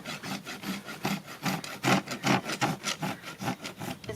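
A hand rasp drawn across a horse's hoof during a natural trim makes rhythmic, close-up scraping strokes, about a dozen evenly spaced rasps in steady succession, with no talk.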